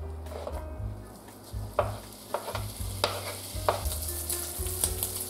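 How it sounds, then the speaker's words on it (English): Bacon fries in a little oil in a pan over high heat, giving a steady close sizzle broken by several sharp scraping stirs and spatula clatters, with no talking. "And the next step, I will fry bacon."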